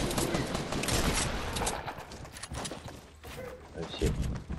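Video-game gunfire in a battle-royale match, a dense clatter of overlapping shots and impacts heard under excited talking from a player, with loudness shifting as the firing continues.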